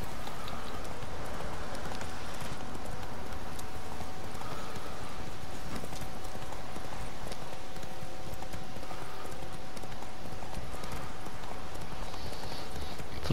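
Horse hooves clip-clop continuously at an easy gait in The Witcher video game, a steady rhythmic patter over ambient outdoor game sound throughout.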